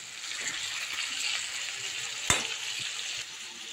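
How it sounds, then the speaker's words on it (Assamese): Mutton and potatoes frying together in a covered pan give a soft, steady sizzle, with a single sharp clink partway through. "যেতিয়ালৈকে আলুখিনি সিজি নাযায় তেতিয়ালৈকে ধুনীয়াকৈ আলু আৰু মাংসখিনি ভাজিয়ে থাকিম।"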